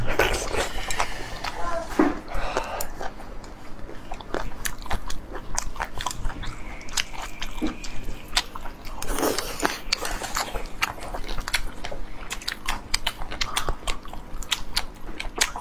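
Hui-style noodles cooked in milk are chewed close to the mic in steady wet, crunchy bites that keep going throughout, with faint clinks and voices in the background.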